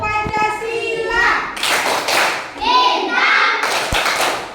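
Children in an Indonesian classroom perform the Pancasila clap chant, with sung and spoken voices alternating with bursts of clapping in a rhythmic pattern, close and lively.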